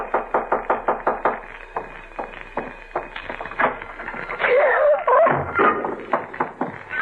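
Knocking at the door in a radio drama, a long series of loud, evenly spaced raps with a brief pause in the middle before they resume.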